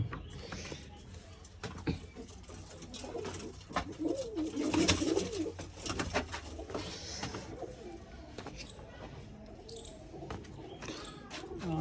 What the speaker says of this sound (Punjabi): ਕਬੂਤਰ ਆਪਾਂ ਇੱਧਰ ਛੱਡਣਾ ਸੀਗਾ